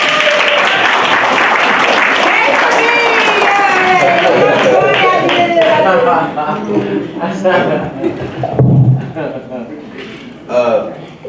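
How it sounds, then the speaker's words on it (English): Clapping and cheering swell around a woman being applauded, loud and crowded at first with excited voices over it, then thinning into scattered claps and chatter. "Let's give her a round of applause"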